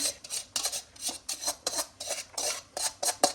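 Rice tipped into a mesh sieve set over a pot while making sweet zarda, giving a quick series of about a dozen gritty, rasping rushes in an uneven rhythm, close and fairly clear with no talking.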